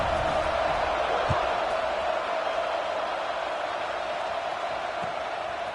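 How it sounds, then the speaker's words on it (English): A football stadium crowd buzzes as a diffuse, steady murmur after a score, heard at a distance under a continuous broadcast hum. "this crowd is buzzing after that last score"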